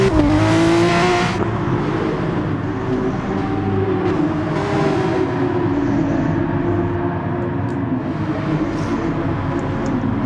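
A full grid of Porsche race cars heading out at Brands Hatch in a racing game gives a loud, steady engine drone with rising pitch, continuous and close throughout.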